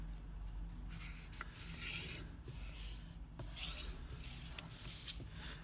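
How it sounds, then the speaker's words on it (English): Paper is folded over and creased by hand while making a wallet envelope, giving soft, close rubbing and crinkling sounds that are quiet and come alone, without speech. "So I'm just going to fold that over there."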